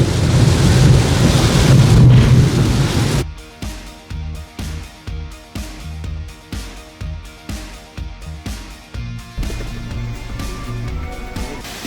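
A heavy roar of rain and wind fills the first few seconds at Tamhini Ghat, then gives way to steady rhythmic pounding, rumbling thuds under a constant downpour hiss.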